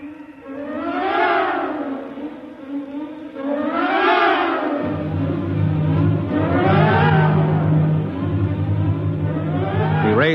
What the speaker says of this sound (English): Shoved by a wind that had now reached 175 miles an hour